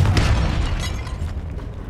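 The Confringo spell from the video game Hogwarts Legacy goes off as a loud, close blast with a deep rumbling body and a crackling tail that fades over about two seconds.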